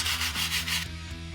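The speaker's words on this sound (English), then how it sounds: "repeated the same process using GT leather cleaner, working it into the seat" Leather cleaner being worked into a car seat, a close, soft rubbing and scrubbing sound in a few quick repeated strokes, with no talking.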